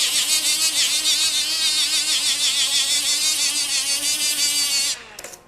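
A power tool spins a worn 3-inch abrasive disc on a 2-inch Roloc mount with a loud, steady high whine that cuts out near the end.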